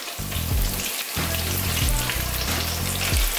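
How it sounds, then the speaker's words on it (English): Shrimp sizzle and fry in hot oil, a loud, dense crackling hiss that runs steadily and close, with bubbling pops throughout. "now I'm gonna drop my shrimp over here."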